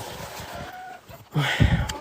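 A hen of an American meat-and-egg cross breed, back home after a hawk carried it off, clucks a few low, close notes over outdoor background noise, with one louder burst near the end.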